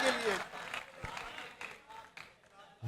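Scattered, fairly faint clapping rises from the crowd at a poetry mushaira in Sargodha, heard beneath someone talking.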